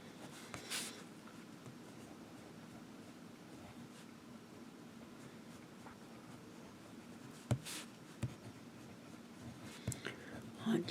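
A Waterman Corinne fountain pen with a medium nib and red ink scratches softly and continuously across the paper of a Starbucks journal, faint and close, with a few light taps toward the end.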